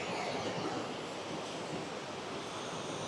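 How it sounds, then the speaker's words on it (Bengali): A waterfall stream rushing below a hotel balcony in Sarahan, Himachal, a steady broadband roar of flowing water, even and unbroken with no voices. "এখান থেকে নিচে পুরো ঝর্ণার আওয়াজটা শোনা যাচ্ছে।"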